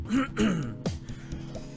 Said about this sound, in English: Oh my gosh, I cannot clear my throat and it's driving me insane.